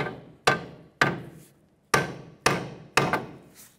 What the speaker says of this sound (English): We'll try tapping it with a sledge or hammer.